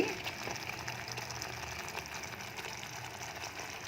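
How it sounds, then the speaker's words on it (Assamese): Liquid in a pot coming to a boil while cooking paneer kofta curry, a steady bubbling and simmering hiss that holds at low level throughout with no talk. "এয়া উতলি আহিছে"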